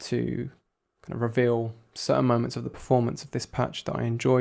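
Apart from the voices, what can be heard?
None of the usual background noises is heard.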